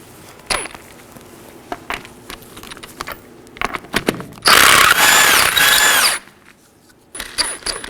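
An impact wrench spins off the 19mm lug nuts on the front wheel of a Chevrolet Equinox, first with scattered clicks and clanks of handling, then a loud, continuous buzzing burst of about two seconds, followed by more close clicks.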